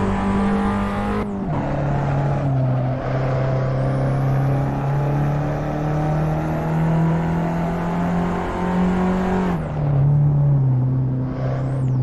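A race car engine in the Assetto Corsa driving game drones loud and steady, its pitch climbing through each gear with a sharp drop at two shifts, running alone without voices.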